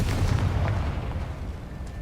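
A deep blast from the Confringo explosion spell in the video game Hogwarts Legacy, a single heavy boom that rumbles and fades over two seconds, with no voices.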